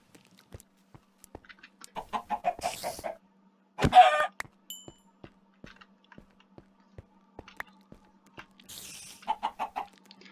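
Blocky Minecraft chickens cluck in several short bursts near the start and end, split by one sharp louder squawk, with soft game ticks and footsteps between; no talking.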